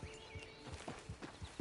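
Horse hooves clip-clopping at a walk in the video game Red Dead Online, about a half-dozen evenly spaced, fairly close thuds over a faint background tone.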